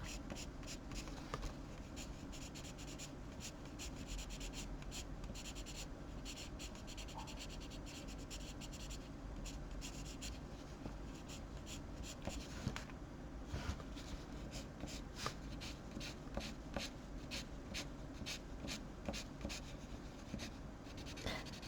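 Pencil drawing and shading on paper for a steampunk portrait, close and quiet, with a steady scratchy rubbing texture running throughout and slightly sharper strokes toward the end.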